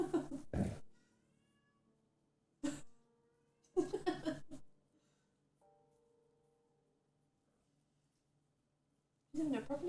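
Zelda, a pet cat, gives a few short meows and chattering calls in a quiet room, separated by long silent pauses.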